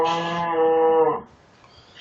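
A cow moos in Minecraft, one loud drawn-out low call that stops abruptly, followed by quiet game ambience.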